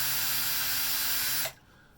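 A loud, steady power drill whines continuously into a thick metal heating element base of a Roberts radio, then abruptly cuts off, leaving near silence.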